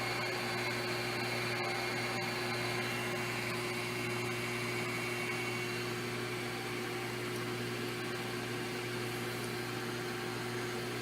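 HPC1200CMB key cutting machine making a cut, a steady motor whine and grinding hum running unbroken and fairly faint, with no voices over it.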